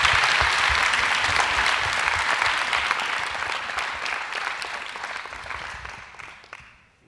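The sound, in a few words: audience applause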